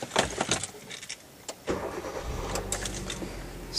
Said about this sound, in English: So the car is started and the RPM is at idling